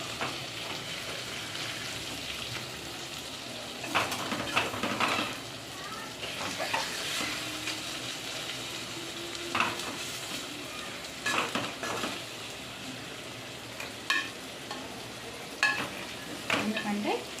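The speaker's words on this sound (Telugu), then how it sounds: "ఎగ్ ఇలా ఉడికిపోయింది. దీన్ని జస్ట్ ఇలా ఫ్లిప్ చేసుకోవాలి అంతే." An egg frying in a pan for a dondakaya egg curry, sizzling steadily while a spatula scrapes and flips it, leaving repeated clinks and scrapes over the constant fry.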